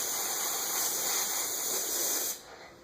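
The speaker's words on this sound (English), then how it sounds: "when you're spraying those first base colors, you want to spray them at an angle too" An airbrush hisses steadily as it sprays paint onto a bluegill skin mount in a taxidermy shop, a close, even spray lasting a couple of seconds before cutting off abruptly.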